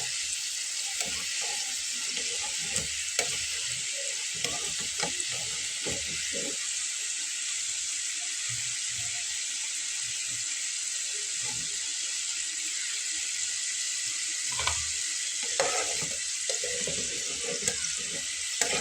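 Potato snacks deep-fry in a pan of hot oil, giving a loud, steady, close bubbling hiss that lasts throughout, with occasional soft clinks and stirs of a utensil and no voices.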